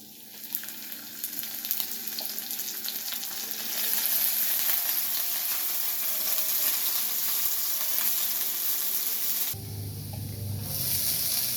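Garlic fries in hot oil in a pan for a homemade gravy, giving a continuous close sizzle and hiss that builds and holds, then shifts near the end with a brief stirring clatter.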